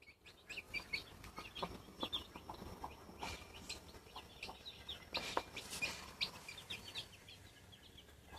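Chicken clucks and short calls scattered across the clip, fairly quiet and somewhat distant, with occasional chirps in a noisy outdoor background.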